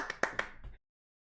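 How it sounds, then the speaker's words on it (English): A brief burst of audience clapping from the Ace Attorney video game: a few quick, crisp claps that stop abruptly after under a second. "Cue the talking audience to clap."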